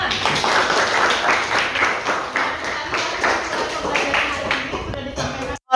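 A classroom group claps together in a brisk run of applause for a few seconds, loud and close, before it cuts off abruptly at the end.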